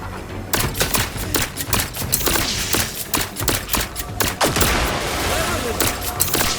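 Rapid gunfire in The Outer Worlds 2 rattles in sharp, loud bursts of repeated shots with short pauses between volleys, close and punchy, with a voice calling out between shots.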